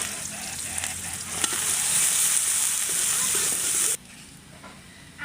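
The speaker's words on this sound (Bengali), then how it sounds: "আমার কিন্তু পেঁয়াজগুলো ভাজা হয়ে গেছে।" Onions fry in hot oil in a pan, a loud continuous sizzle and hiss with faint stirring scrapes, which cuts off sharply near the end, leaving a quiet room.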